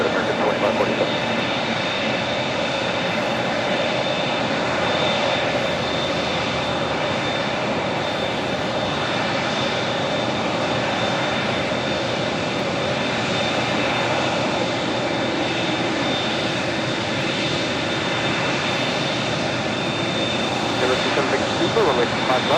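Jet airliners at Los Angeles International Airport, a steady, loud engine roar with a constant whine that holds unbroken throughout, with radio talk faintly underneath.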